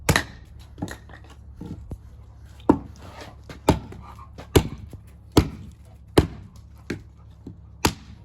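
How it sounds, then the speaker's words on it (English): An axe chops the edges off a wooden stick in about a dozen sharp, close strikes at an uneven, unhurried pace, with quiet gaps between blows. "we are going to get our axe, chop off the edges, and trim it up to be nice and pretty"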